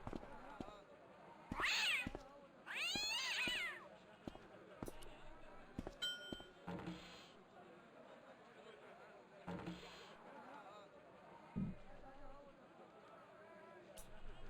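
A cat in the Broken Sword point-and-click adventure game gives a few short meows among scattered footsteps and thumps over quiet background ambience.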